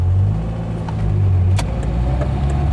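A Lada Riva Estate VAZ 2104 makes a three-point turn on a street. Its engine gives a close, low, throbbing idle rumble with a brief rise in revs partway through.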